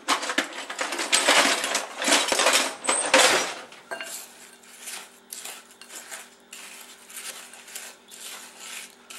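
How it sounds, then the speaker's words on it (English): Cheesecake crust of crumbs and melted butter being mixed in a bowl, with a dense run of close, scraping and clinking strokes that thin out into lighter, intermittent stirring. "Then you mix all this together."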